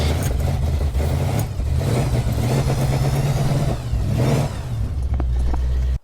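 Carbureted Jeep engine running after a key start, a close, loud mid-pitched rumble with rough uneven surges as the throttle is pumped, holding steady for several seconds before cutting off abruptly at the end.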